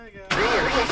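A Ford Mustang engine catches with a sudden loud burst and settles into a full, rumbling idle, heard close up after a brief quiet moment.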